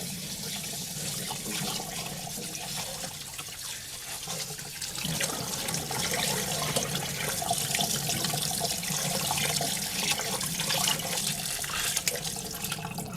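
Water pours steadily from boiled pork being drained in a kitchen, a continuous splashing rush that stays loud and even throughout with no talking.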